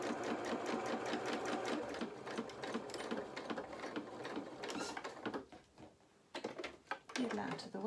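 A sewing machine stitches a shirt seam and then reverses, running loud and close in a continuous mechanical whir that pauses briefly and starts again, with someone speaking over it.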